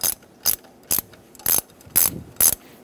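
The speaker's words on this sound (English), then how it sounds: "Using a puller, we put two bolts into the threaded holes on the crank sprocket. Now we're going to pull it off." A puller being wound down with a ratchet to draw a stuck crank sprocket off a 2010–2014 Subaru Outback during a timing belt job: six evenly spaced, sharp ratcheting clicks about half a second apart, close up, with no talking.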